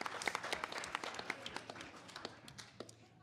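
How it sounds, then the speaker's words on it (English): An audience applauds a speaker's introduction, with a dense patter of many hands clapping at a moderate distance that thins out toward the end, no voices over it. "Big round of applause for Sandy."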